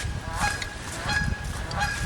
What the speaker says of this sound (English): Chatty geese.